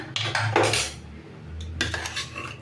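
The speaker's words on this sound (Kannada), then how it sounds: "ಕುಕ್ಕರ್ ಮುಚ್ಚಳ ಓಪನ್ ಮಾಡ್ತಾ ಇದ್ದೀನಿ" Metal pressure cooker lid being opened after a chicken gravy has cooked, giving a few close clanks and scrapes of metal on metal, with a louder clatter early and another near the end.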